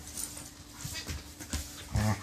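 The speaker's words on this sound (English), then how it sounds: "if they all barked like that, you see, it's like a silent bark" A dog gives a near-silent bark, soft breathy huffs and faint panting against hot outdoor background noise, with one slightly stronger muffled woof near the end.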